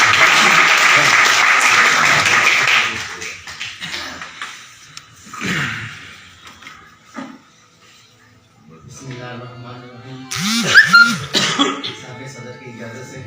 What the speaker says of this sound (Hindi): आपकी भरपूर तालियों की गूंज में जनाब अकमल हनीफ